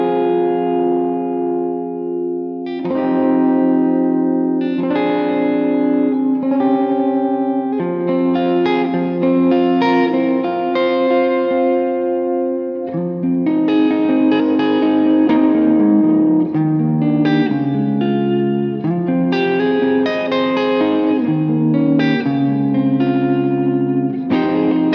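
A 1996 Gibson Joe Perry signature electric guitar on its neck pickup plays a clean tone through a Vox AC30 amp: a steady run of ringing chords and picked notes, warm and sustained, close and full, with no talking.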